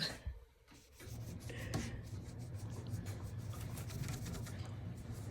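Quiet cloth rubbing and wiping against the metal of a black coral 5-pound wax pot: soft, scratchy strokes that continue steadily after a brief pause at the start.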